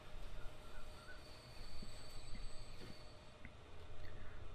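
A train in Transport Fever rolls along with a steady mechanical rumble, faint wheel squeal and a few clicks, continuous and moderately quiet.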